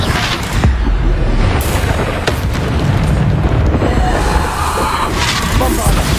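Heavy booming blasts of the Bombarda spell in the video game Hogwarts Legacy, loud and close, several explosive bursts with crashing debris over a dense battle din, with a voice shouting over them.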